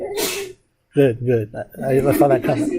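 One quick sneeze opens the clip during an online trigonometry tutoring session, followed by a brief silence and then a person talking.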